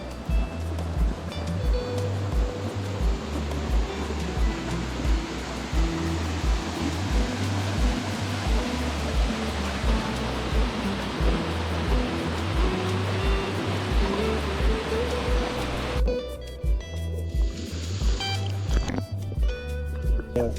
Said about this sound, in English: the Wheel of Fire is not just one waterfall, but it's a whole series of cascades